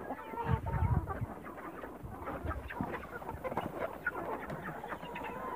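Farmyard chickens cluck and murmur close by in a continuous, busy chatter, with soft scattered calls overlapping at a moderate level.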